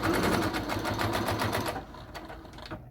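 A sewing machine stitches a fabric book sleeve in a rapid, rhythmic mechanical whir for nearly two seconds before stopping, leaving quiet handling noises.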